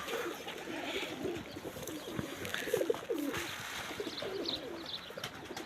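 Pigeons coo softly and repeatedly in low, rolling murmurs, with faint chirps and a light background hiss, no voices.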